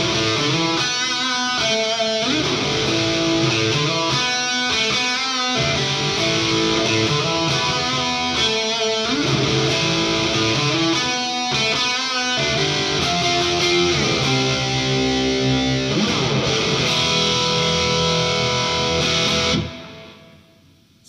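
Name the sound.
electric guitar through tube amp channel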